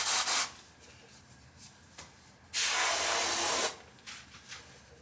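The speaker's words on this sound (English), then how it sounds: "Sorry, that was my deodorant." Aerosol deodorant sprays in short hissing bursts: two quick puffs, a long steady blast of about a second, then a few brief spurts, close and fairly loud in a quiet room.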